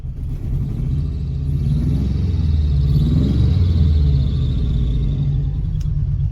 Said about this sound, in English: The motor runs if we give it a rev.